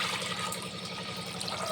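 Water poured steadily into a pot of washed lentils, a continuous close splashing and trickling fill lasting the whole moment with no talk.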